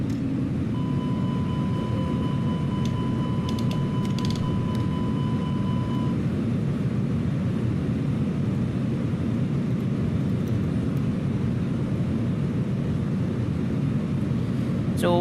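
Airliner on final approach for landing at Washington Dulles in Microsoft Flight Simulator 2020, a steady, loud, continuous engine and airflow roar. A faint tone beeps near the start, and no one talks.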